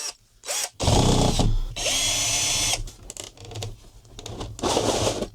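A power drill unscrewing screws runs in several short whirring bursts of about a second each, close and loud, separated by brief pauses.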